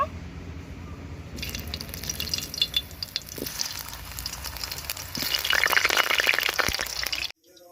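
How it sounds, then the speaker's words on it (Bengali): Potatoes frying in a pan for a village-style country chicken curry give a soft sizzle that swells into louder, denser crackling before cutting off abruptly, close with no talk. "এখন এবার আলুগুলো আমি ভেজে নেব।"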